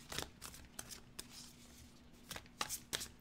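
Tarot cards are shuffled in short, crisp riffling bursts at an uneven rhythm, close and quiet, with no talking.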